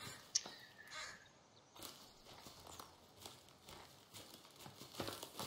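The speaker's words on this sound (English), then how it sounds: "Not entirely sure what all these birds are doing here" Birds in the video game The Forest, with crow-like caws and scattered chirps over faint rustling and footstep-like crunches, all quiet and intermittent.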